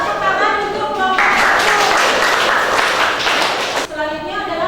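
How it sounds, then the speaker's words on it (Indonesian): A classroom group applauds a presenting student group, a burst of clapping swelling in the middle under background talk and fading after about three seconds. "tepuk tangan untuk kelompok"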